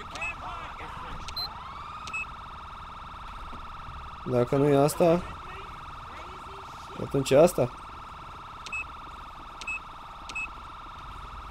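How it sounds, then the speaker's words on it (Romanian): Police car siren in the GTA V video game, a steady electronic tone running under the whole stretch, with someone talking in short bursts over it. "Cui merge mă sirena aia că mă disperă?"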